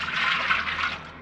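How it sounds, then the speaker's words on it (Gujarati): Cold water pours steadily into a pot in a continuous splashing rush, close by, easing slightly toward the end. "હવે આમાં ટાટું પાણી પાછું રેડવાનું"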